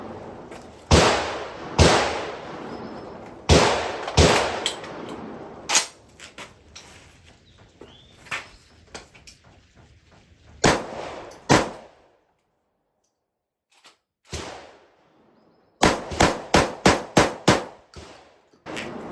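Shotgun blasts from an A3GMunitions edition VR80 being broken in, fired in quick bursts of loud, sharp reports with short pauses between strings, ending in a rapid volley of five or six shots.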